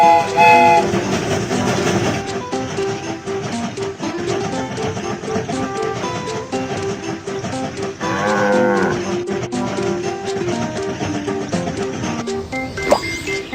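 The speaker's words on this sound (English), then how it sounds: "The train is about to start." Animated cartoon train pulls away with a loud horn-like blast and chugging rhythm over bright background music, ending in a short sharp whistle.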